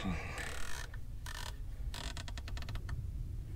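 The elevation turret on a rifle scope mounted on a 6.5 Creedmoor rifle is dialed up in a quick run of crisp, close mechanical clicks, with faint outdoor background noise.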